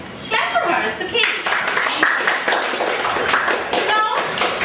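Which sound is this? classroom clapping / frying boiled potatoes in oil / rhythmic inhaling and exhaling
classroom clapping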